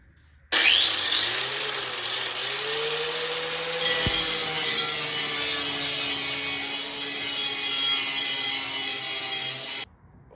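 Angle grinder fitted with a Harbor Freight flap disc grinding steel on the short bed frame of a 1978 Ford F100, a loud continuous whine starting abruptly, steady for about nine seconds with a falling tone, then cutting off.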